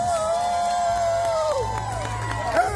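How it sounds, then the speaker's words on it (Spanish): A crowd at a streetball tournament cheers and shouts for the MVP, a steady loud roar with whoops and a whistle-like tone, thinning toward the end. "Un fuerte aplauso para el número 10"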